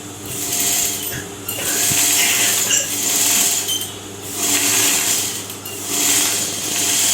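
A sewing machine runs in three surges while stitching the curve of a patchwork blouse, its whirring motor starting and stopping in steady bursts, close and fairly loud, with no talking.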